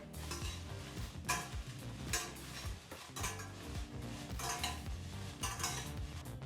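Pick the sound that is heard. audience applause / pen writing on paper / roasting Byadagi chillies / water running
roasting Byadagi chillies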